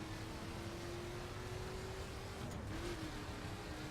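A car in The Crew accelerates after a downshift, its engine giving a steady droning hum that rises slightly before a brief shift-like change, heard alone at moderate distance.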